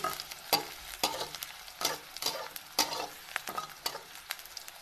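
Onion frying in a pan, stirred with a spatula, giving repeated scraping strokes over a steady close sizzle with no talking.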